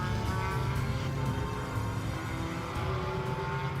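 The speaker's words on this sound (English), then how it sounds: "The cars turning their way now up through turn 4." GT4 race cars at the Barcelona circuit rounding turn 4 during a European Series race, a steady broad engine roar from several cars blending at a moderate distance with no pauses.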